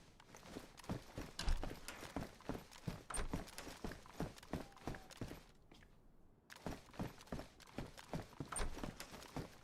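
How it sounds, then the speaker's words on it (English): Footsteps in the DayZ video game crunch along at a steady walking pace, fairly faint and continuous, with a brief pause before the steps resume. "I was hearing footsteps."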